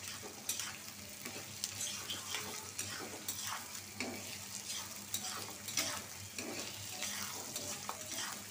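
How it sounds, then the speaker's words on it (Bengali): Steady frying sizzle of onion and garlic in oil for a dried-fish dish, with occasional scraping and stirring clicks from a utensil, close and continuous. "পেঁয়াজটা ভাজা হোক। পেঁয়াজ আর রসুনটা লাল হয়ে গেছে।"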